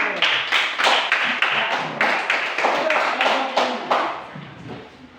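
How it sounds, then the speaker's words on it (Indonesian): Classroom audience claps after a student presentation in a religious education lesson, a burst of distinct, fairly close hand claps in uneven rhythm that thins out toward the end. "Kita beri tepuk tangan"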